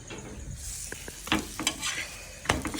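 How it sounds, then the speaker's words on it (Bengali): Palm fruit fritters (taler fuluri) frying in hot oil, a close bubbling sizzle broken by scattered clinks and scrapes of a utensil against the pan. "এই ভাজা হচ্ছে।"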